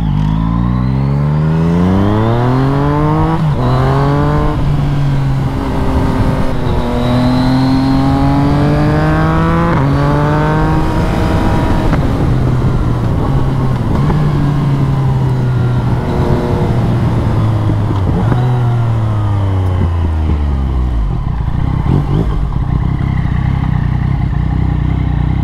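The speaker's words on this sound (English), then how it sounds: "You see that car was full out?" A car passes at full throttle on a road along the Great Ocean Road, its engine note climbing loud and close, then falling away as it recedes, with constant wind rumble throughout.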